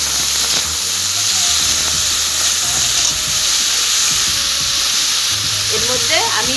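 Potatoes fry in hot oil with a ground paste of onion, ginger, garlic, chilli and cumin, a loud continuous sizzle and hiss with light stirring knocks underneath.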